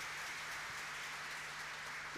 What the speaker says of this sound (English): Let us give a big round of applause to our chief guest.